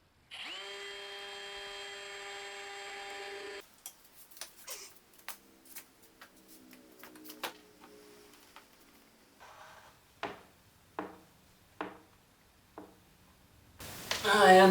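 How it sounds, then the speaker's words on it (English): A power drill whines steadily at close range while drilling holes in a bulkhead door, then comes a series of shorter bursts and clicks as the bit bites in, ending with a rising whir. "I drill the holes and then put the screws in by hand"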